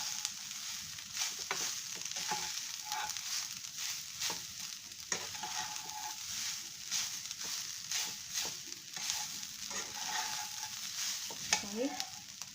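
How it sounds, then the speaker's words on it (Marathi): Almonds and fresh grated coconut sautéed in a pan while making frozen modak, a steady soft sizzle with intermittent scraping stirs of a spoon, close and fairly quiet, no talking. "एक मिनिटभर बदाम परतले की त्यात ओला नारळ टाकून घ्यायचा आहे। थोडंसं परतायचे"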